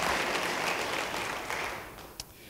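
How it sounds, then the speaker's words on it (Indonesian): A church congregation claps steadily, the applause loud at first and gradually fading over a couple of seconds. "Beri tepuk tangan bagi dia."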